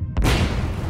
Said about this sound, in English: Just 3 minutes later, the reboiler violently ruptured.